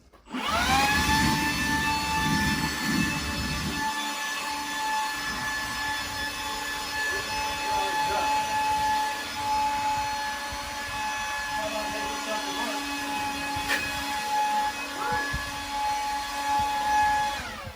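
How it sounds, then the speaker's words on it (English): A loud motor whine starts abruptly and runs steadily, a high droning blower with a sharp tonal hum, close by throughout. "we're gonna take said leaf blower and we're gonna make it work"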